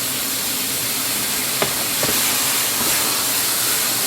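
Bacon-flavored syrup hissing steadily in a hot frying pan, a loud continuous broadband sizzle with a couple of faint clicks partway through.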